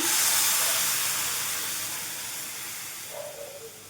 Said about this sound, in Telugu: ఇప్పుడైతే ఇందులో కాచి చల్లార్చిన 2 కప్పులు మిల్క్ని అయితే వేసుకుందామండి